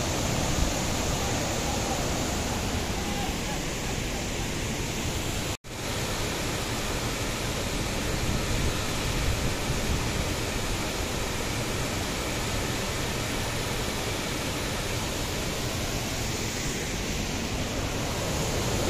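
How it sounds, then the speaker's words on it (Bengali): Borhill waterfall near Mawlynnong, Meghalaya, in full flood: a constant, even, broadband roar of falling water filling the whole clip, broken only by a momentary dropout. "একটু জুম করে ঝর্ণাটা ভালোভাবে দেখাই"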